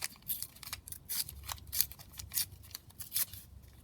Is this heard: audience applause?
no